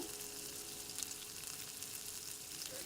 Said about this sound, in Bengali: পেঁয়াজটা ভালো করে ভাজা হয়ে আসলে আমি নামিয়ে নেব।